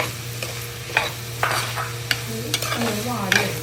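Garlic, ginger, onion, shallots and green chillies fry in a pan with a steady sizzle, while a spoon stirs and scrapes in a few sharp clinks, close and without talk.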